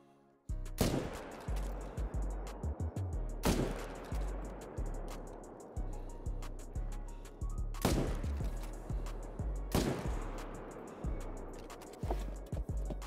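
Loud in-game hunting rifle shots ring out one at a time at spaced intervals, each with a sharp crack and a long echoing tail, with faint rhythmic footsteps or hoof-like thuds between them.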